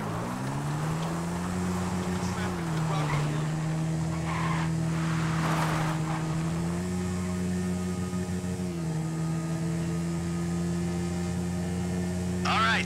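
A car in Grand Theft Auto V hums along with a steady engine drone, its tires breaking into occasional skids and squeals, while game music and effects carry on loudly throughout.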